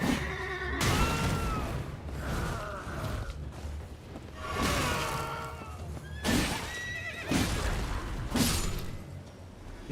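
Horses whinny and neigh repeatedly in Elden Ring, several loud calls spread across the stretch, with hoof clatter and mechanical noise underneath.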